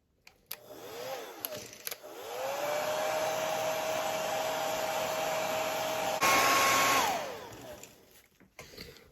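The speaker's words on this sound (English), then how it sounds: "now we're gonna hit it with the hair dryer." A hair dryer blows steadily on a freshly painted fishing lure for several seconds, a constant whooshing whine that briefly rises in pitch and loudness before switching off.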